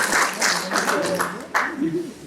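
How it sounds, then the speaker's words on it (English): Scattered audience clapping at a national consultation session on a customs programme, uneven bursts of hands heard near, with a voice speaking over them. "Yeah, you can clap hands."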